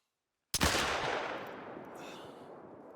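A single sharp gunshot from the .45 Rolleston handgun in theHunter: Call of the Wild cracks loudly after half a second of silence, then fades through a long reverberant tail.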